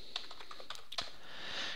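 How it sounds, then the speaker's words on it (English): Keys clatter on a computer keyboard while a formula is entered into a Google Sheets spreadsheet, a quick run of close, crisp taps with brief pauses, heard alone without talk. "And I'm going to start by typing equals VLOOKUP."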